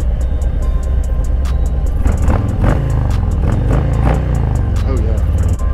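A 2021 Harley-Davidson Low Rider S motorcycle engine rumbles loudly and steadily while riding, its low throttle surging in several rising pulses, close up with wind noise and a voice speaking over it.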